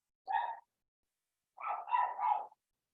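Dog barking in a chemistry class recording, one short bark followed after a pause by a longer run of two or three barks, moderately loud and alone without talk.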